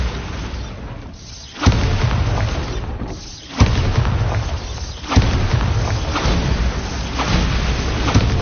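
Bombarda spell blasts in the video game Hogwarts Legacy: four heavy booming explosions about every one and a half seconds, each a sharp hit over a constant loud rumble of game noise.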